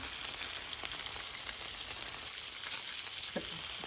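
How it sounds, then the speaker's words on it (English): Chicken drumsticks coated in taco sauce and taco seasoning sizzle in a pan, a soft, even hiss with a few faint stirring clicks throughout. "And then I'm just gonna give it a good stir."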